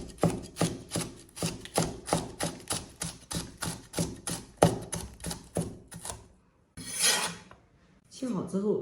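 A kitchen knife slices seeded, trimmed green peppers into thin strips on a cutting board. About twenty brisk, even strokes come close and loud, then they stop, followed by a brief rustle and handling noise.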